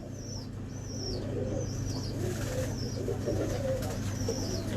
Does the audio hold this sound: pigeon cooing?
yes